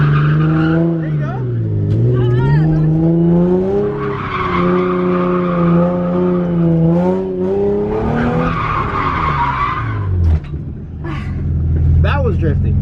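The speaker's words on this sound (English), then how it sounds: "That was drifting." A car drifting on a practice run, with loud sustained tire squeals rising and falling over a rumbling engine, close up, with voices talking alongside.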